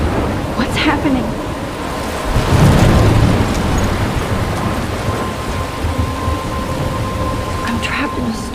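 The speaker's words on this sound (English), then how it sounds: "I'm trapped in a storm?" Thunderstorm with steady heavy rain and a rumble of thunder in the Life is Strange video game, dense hiss throughout with a deeper roll partway through and brief crackles, loud and close.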